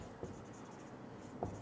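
The word research is written on a board: faint, quiet pen or chalk strokes, with two brief scratchy marks standing out against a soft background.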